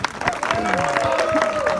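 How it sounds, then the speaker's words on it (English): Applause from a gathered crowd at an evening function in Bentiu, brief and steady, mixed with crowd chatter and a tonal whine running underneath. "Big round of applause for One Troop for setting this up."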